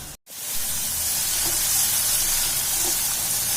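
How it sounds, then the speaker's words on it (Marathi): Onion sautéing in hot oil over a low flame in a home kitchen, following crushed green chili thecha; a steady, loud broadband sizzle and hiss after a brief gap near the start, with faint stirring clinks. "आता कांदा घालायचा आपल्याला कांदा पण लालसर होईपर्यंत परतून घ्यायचा"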